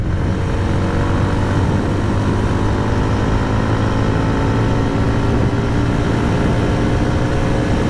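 A 2024 Jawa 42 motorcycle accelerates in fifth gear, a loud, steady engine drone blended with heavy wind rush, close and continuous with no talking.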